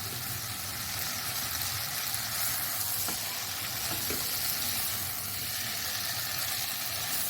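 Spices sizzle and fry steadily in a handi pot for masala bhindi, a continuous bright crackling hiss with occasional stirring, close and loud throughout with no talking.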